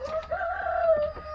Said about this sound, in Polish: Jak coś, to już jest nowy kogut